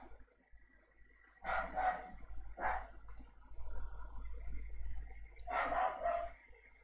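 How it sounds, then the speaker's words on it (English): A dog barks in four separate bursts, a pair close together and then two more spaced apart, at moderate distance over a low steady hum. "Oh, the dog's been set off."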